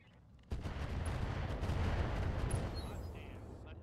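Heavy mech weapons discharging in the video game RogueTech: a loud rumbling barrage that starts abruptly and sustains for several seconds as a dense roar of fire and impacts, with faint high tones over it.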